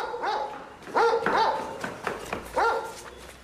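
A dog in a Beirut home barks in a quick series of sharp, close yaps, several clustered bursts with short gaps, loud and clear with no talk over them.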